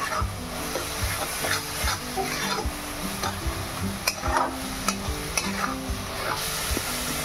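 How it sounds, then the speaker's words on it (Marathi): Chopped ridge gourd stir-fried uncovered in a pan until dry, a continuous steady sizzle with frequent clicks and scrapes of a spatula stirring against the pan, close and moderately loud, no talking. "याला सारखं परततच राहायचं आहे बारीक सुक्का कोरडा होईपर्यंत."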